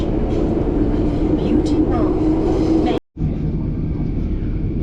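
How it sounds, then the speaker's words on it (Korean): Steady low rumble and hum of a Singapore commuter subway car in motion, with faint rattles and a brief cut to silence before the drone resumes. "출근 지하철 내부는 이렇습니다."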